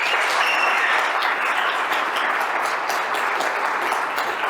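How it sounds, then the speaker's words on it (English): Steady, dense applause from a conference audience at the official opening of an international world conference, clapping for the donors, sustained at an even level throughout. "Once again, applause for all the donors."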